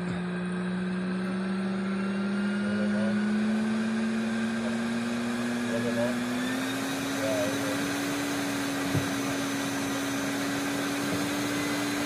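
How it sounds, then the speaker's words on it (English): A live bee removal vacuum runs with a steady drone, its pitch rising slightly partway through, in an outdoor San Diego setting, and a faint voice can be heard beneath the motor. "We are using the live removal vacuum here."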